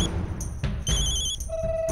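A telephone rings insistently indoors, bright repeated electronic trills over a low rumble of background sound, with no voices.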